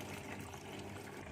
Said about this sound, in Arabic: جبت شويه ميه اهو رجرجت الازازه